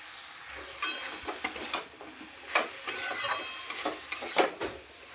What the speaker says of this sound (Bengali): সর্ষে বাটাটা দিয়ে খুব ভালো করে মিশিয়ে নেব।